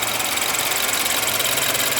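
A 2012 BMW X3 xDrive20i with a small-displacement turbocharged Valvetronic engine idles steadily, a continuous even hum with a faint rhythmic pulse and no other sounds.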